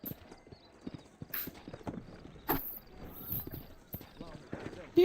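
In the Red Dead Redemption video game, horse hooves clip-clop at an irregular walking pace while riding, close and clear, with someone talking over the steps.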